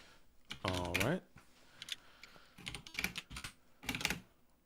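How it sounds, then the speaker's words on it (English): Computer keyboard keys clatter in quick clustered bursts close to the microphone, with a voice briefly speaking over part of it. "Sorry, that's me typing."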